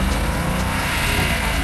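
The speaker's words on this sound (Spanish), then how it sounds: "Se siente desde ya el primer acelerón que digamos que la moto tiene bastante potencia, bastante torque también." Yamaha Super Tenere motorcycle accelerating on a test ride, a loud, dense engine roar heard close from the bike itself, steady and full-bodied through the short stretch with wind noise mixed in.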